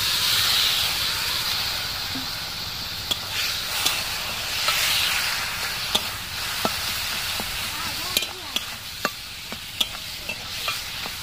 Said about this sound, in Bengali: এইভাবে 2 থেকে 3 মিনিট ভালো করে ফ্রাই করে নেব।